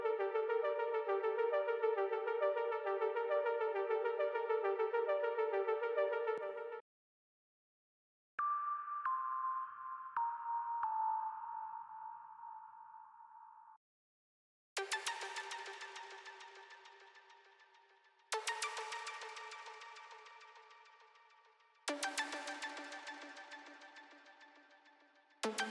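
Synth tones for a psytrance track ring out, first a long sustained chord and then gliding notes. Three bright plucked hits follow, each fading slowly in a heavy reverb tail, with short silent gaps between them.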